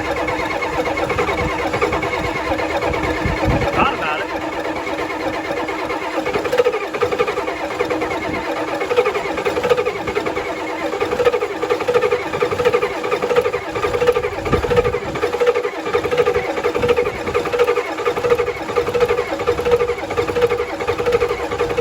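A 1991 IDI diesel engine cranks and catches, then settles into a steady rattling idle with a rhythmic knock, loud and close throughout.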